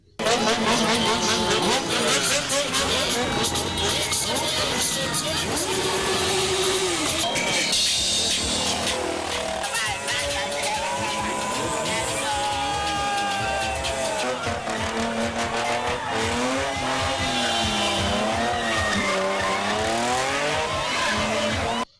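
Drift cars perform stunts along a street carnival route in Nigeria, engines roaring and revving continuously with tire noise, loud and dense throughout under crowd and music-like din.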